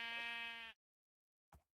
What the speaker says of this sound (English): Dude, I see a sheep doing 360s.